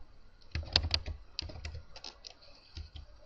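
Keys clatter on a computer keyboard in quick, uneven bursts of close, crisp clicks over a few seconds, with short pauses between groups of strokes.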